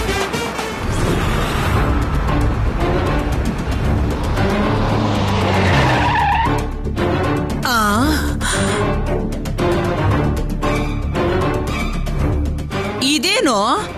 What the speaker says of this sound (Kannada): ಇದೇನು ನೀನು ಭುಜಕ್ಕೆ ಹೊಡೆದ್ರೆ ಕಾರೇ ನಿಂತೋಯ್ತು?